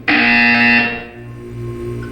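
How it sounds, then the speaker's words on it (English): A buzzer from the video game Portal 2 sounds once, a loud, steady electronic tone lasting about a second before fading into a low ambient hum. "You will hear a buzzer."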